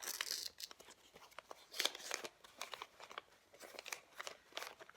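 Soft crinkling and crunching of paper as a modular origami unit is folded and pinched together, in close, quiet bursts with short pauses between them.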